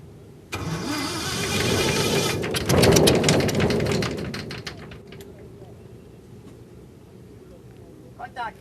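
A homemade light aircraft built from iron square pipes, plywood and aluminium sheets has its engine started, a loud broadband roar catching after a half-second pause, surging hardest around three seconds, then easing to a steadier running drone.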